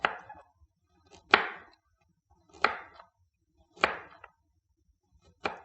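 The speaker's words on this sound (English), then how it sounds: "I also cut my carrot." A knife chops a carrot firmly on a cutting board, five sharp strikes at a slow, even pace, close and distinct with quiet between them.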